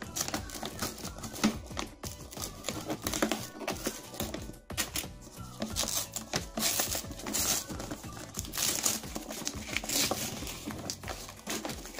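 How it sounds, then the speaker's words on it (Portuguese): Scissors cutting open a package wrapped in cardboard and paper, giving dense, continuous crinkling, snipping and tearing noises up close, with scattered sharp clicks and no talking. "vamos também usar aqui nosso kit tesoura aqui para cortar esse produto"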